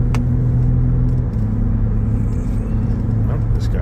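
A truck engine driving up a hill, a steady low rumble held at an even pace without hard revving, loud and close throughout.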